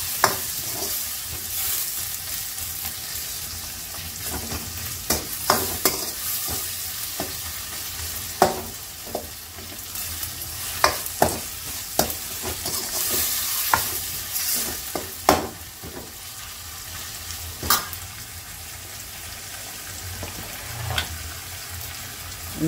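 Spices and vegetables sauté for a dried anchovy (nethili) kuzhambu, with steady sizzling and a regular series of sharp spoon scrapes and knocks against the pan, close and clear with no talking.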